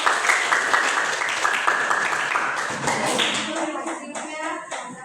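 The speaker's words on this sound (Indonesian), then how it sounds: "Tepuk tangan untuk semua kelompok." Students in a classroom clapping for all the groups after a lesson, a loud burst of hand claps that thins out and fades while a voice speaks over the tail.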